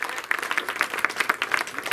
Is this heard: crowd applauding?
yes